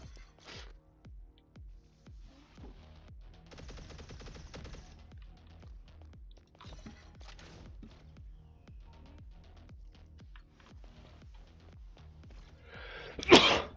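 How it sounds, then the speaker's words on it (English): A streamer sneezes while playing the game Xociety, one sharp, loud burst near the end that follows a long stretch of quieter, rapid clicking and gunfire-like taps. "I stream with sneezing"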